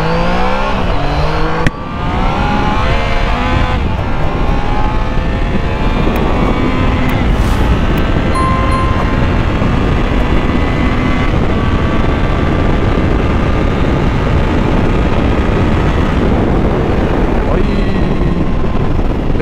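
A Triumph Trident 660 motorcycle accelerates hard, its three-cylinder engine roaring loud and close with rising revs and wind rush, steady and sustained after a brief dip near the start.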